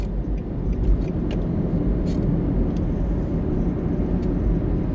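Car driving in morning traffic coming off Mandela Highway toward Washington Boulevard in Kingston, Jamaica; a steady low road rumble and engine drone fills the cabin continuously, with faint occasional higher noises, and no talk.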